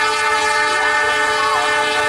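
A train at a railway level crossing sounds a loud, sustained horn, a steady droning chord heard close and unbroken throughout, with no talking.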